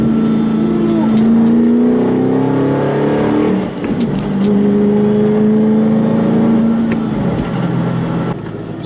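A 2010 Mustang GT with a 4.6-litre V8 revs loud and close, its exhaust note rising and falling in sustained pulls with a brief dip midway, sounding strong and continuous.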